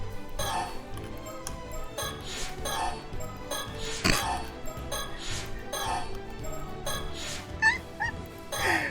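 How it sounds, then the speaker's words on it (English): A dog whimpers and gives short high yips in a video game scene, the cries repeating in bursts over music and soft clinking, with some voice-like sounds mixed in. "Talk to your dog."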